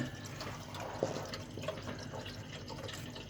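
Water runs down through the overflow of a large home aquarium as a steady, soft trickle and splash, fairly close and unbroken, with no voices.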